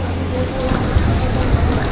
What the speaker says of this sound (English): It seems like it pours every afternoon here in Kota Kinabalu.